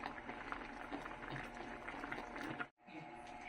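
Ginataang paksiw of yellow pin fish simmering in coconut milk in a pot, a close, quiet bubbling that runs steadily before a brief drop to near silence.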